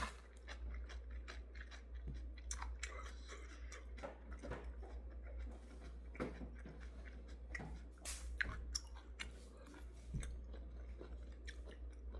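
Someone eating instant ramen noodles late at night at a mountain temple, with quiet repeated slurps and chewing clicks at close range over a steady low hum, no talking.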